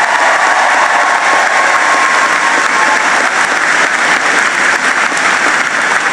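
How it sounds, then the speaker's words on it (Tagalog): A large crowd in Roxas City, Capiz, applauds and cheers for the President at a public event, a thick, loud, unbroken roar of clapping and shouting that fills the whole stretch without letup. "hindi lang po yun palakpak, may dalang sigaw pa po yun"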